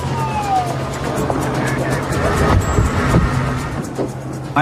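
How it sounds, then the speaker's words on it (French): A police car siren wails over steady road traffic noise, with a pitch that rises and falls, fairly close and continuous throughout. "filer dans ma voiture, toute sirène hurlante"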